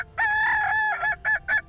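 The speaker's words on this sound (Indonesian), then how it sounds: "ayam ini mulai populer sebagai ayam penyanyi dan sering diperlombakan untuk mengetahui" A Kukuak Balenggek rooster, a West Sumatran singing breed raised on a farm in Sirukam, Solok, crows close and clear: one long drawn-out call, then several short rhythmic bursts, with no voices.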